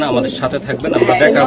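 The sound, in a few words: racing pigeons cooing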